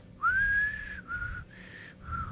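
A human imitating a whistle heard outside a window: a rising then steady tone followed by three shorter whistled notes, clear but not loud over a quiet background.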